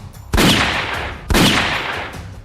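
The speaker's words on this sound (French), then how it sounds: "des coups de feu viennent de derrière." Two loud, booming gunshots about a second apart, each with a long echoing decay.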